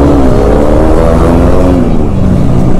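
Kawasaki H2R motorcycle pulling away on a road, a loud, close engine with a rising, strained tone as it accelerates, continuous from start to finish with no voices.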